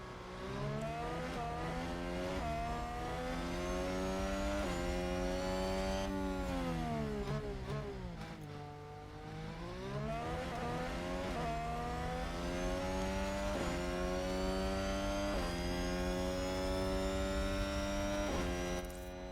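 A Formula 1 car on a flying lap in the F1 Manager 2022 game at Bahrain: a steady, loud engine whine rising and falling through gear changes, with one clear lift-off and deceleration midway before it pulls hard again, heard alone without talk.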